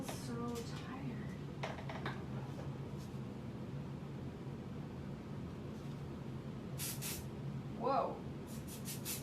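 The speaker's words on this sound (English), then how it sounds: "so I'm going to spray these really quick with a basting spray" Basting spray sprayed onto fabric while making a modified Louise barrel bag, heard as several short hissing bursts at moderate distance between stretches of low room noise, with a brief exclamation from a voice.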